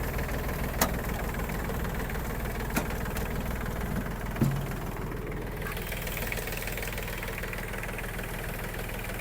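The engine of an Iseki TG-333 Japanese mini tractor runs steadily at idle with a low, even rumble and a few faint clicks, close by and without any talk.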